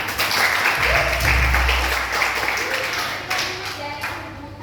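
An audience breaks into applause, a burst of clapping with some voices and cheers mixed in, tapering off over a few seconds.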